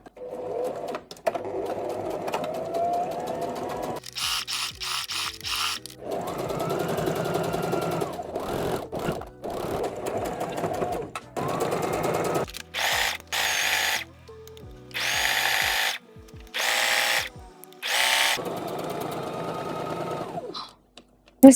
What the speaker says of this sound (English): I'm going to sew this raw edge closed to create one really long tube.